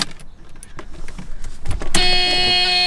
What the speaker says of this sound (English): Wait, does the horn work?